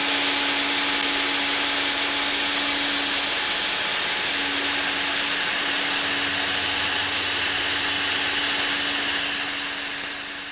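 A household vacuum cleaner runs loud and close, a steady motor roar with a constant whine that holds for about ten seconds before tapering slightly at the end, with no speech.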